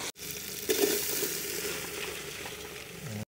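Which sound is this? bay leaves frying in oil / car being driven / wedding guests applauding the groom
bay leaves frying in oil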